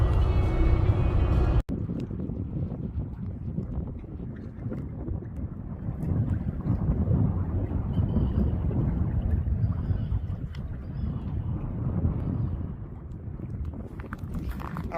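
A Jeep cruising around Seaside Park, New Jersey, with steady wind buffeting the microphone over a continuous low road and engine rumble, loud and unbroken, with no talking.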